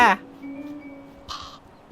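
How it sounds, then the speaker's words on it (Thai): A crow caws in the video game Little Kitty Big City, a short call rising over soft game ambience after a brief opening sound, with a steady faint tone underneath. "อุ้ยนี่ไงคุณอีกา"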